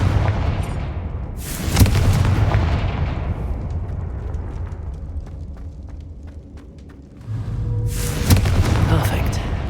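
In the video game Hogwarts Legacy, Confringo fire spells explode as heavy booming blasts, one near the start and another near the end, with game sounds and a voice between them.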